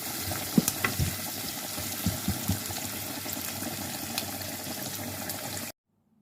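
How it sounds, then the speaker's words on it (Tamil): Curry leaves frying in a pan for a Tamil kuzhai soru rice dish, giving a steady low sizzle with a few soft stirring clicks near the start, then cutting to silence at the end. "இப்போ நான் கருவேப்பிலை பிச்சு வச்சுக்கிறேன். அதையும் போட்டு இதோட வதக்க போகிறேன்."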